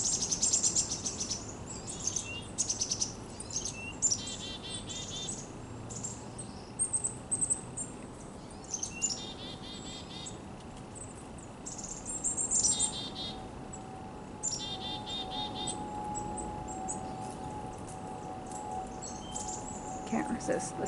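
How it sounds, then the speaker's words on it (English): Black-capped chickadees call in an autumn wetland, high thin chirps and whistled notes in repeated short clusters, fairly near over a quiet outdoor hum, with a person speaking softly at times. "Can't resist listening to the chickadees for a little while."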